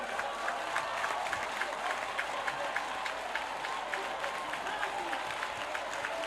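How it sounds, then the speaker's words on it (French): Crowd acclamation and applause at a religious convention, a dense, steady wash of clapping and voices with rhythmic peaks, sustained and fairly distant throughout. "Acclamation à Jésus de Nazareth"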